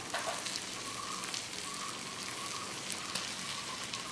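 Eggs frying in a pan of roasted masala for an egg pepper roast give a constant crackling sizzle, close and even, with a few sharper pops and light stirring scrapes.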